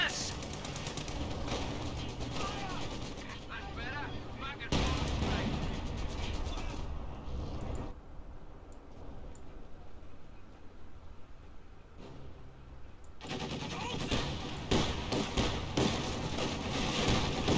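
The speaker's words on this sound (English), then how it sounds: "Someone's shooting us!" Gunfire from a Company of Heroes battle: a dense, continuous crackle of distant small-arms shots and bursts that thins midway, then swells again under a faint voice.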